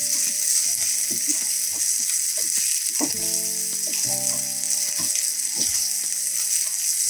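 Fish masala sizzling and frying in a pan, a steady broad hiss running throughout with scattered clicks and clinks of a utensil stirring against the pan; no voices.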